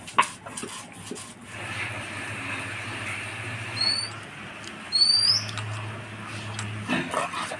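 Green chilies are ground into a paste on a stone slab, giving a steady rough scraping that runs through most of the stretch. A few sharp clinks and short higher squeaks break in, and no one speaks.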